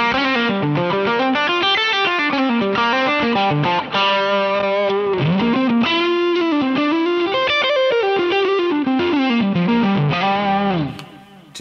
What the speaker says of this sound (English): To me, that's as inspiring to play as more or less any other Dumble tones that I've found.